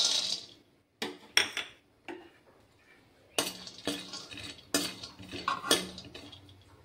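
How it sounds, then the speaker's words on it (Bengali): Peanuts dry roasting in a hot kadai on a gas flame give off bursts of rattling clinks and scrapes, loud and close, separated by short quiet gaps. "প্রথমে আমি শুকনো খোলায় বাদামগুলি ভেজে নেব।"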